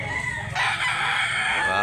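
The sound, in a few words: Talisayon rooster crowing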